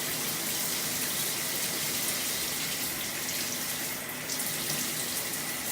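Water from a tap pours steadily and close by while shampoo is rinsed out of natural curly hair, a continuous bright hiss with no pauses.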